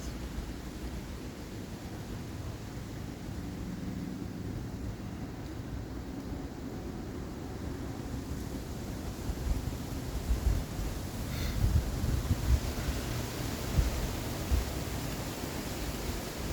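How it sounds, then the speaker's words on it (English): Low rumbling wind buffets the microphone steadily, with gusty bursts growing stronger toward the end; no voices. "It's a bit windy, so I hope it doesn't make too much noise."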